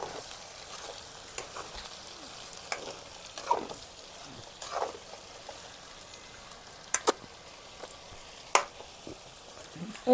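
Potato brinjal masala curry with tomato sizzles softly in a pan while a spoon stirs it, bringing occasional scrapes and a few sharper clicks against the metal.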